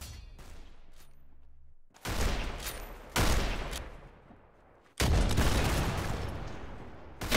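Gunfire in a first-person shooter arsenal match, loud bursts of rapid shots in three separate volleys, each trailing off with echoing decay, and no talking.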